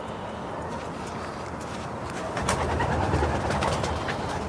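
Pigeons flutter and shuffle nearby in steady rustling noise, growing somewhat louder midway, with a brief wing clap at the end.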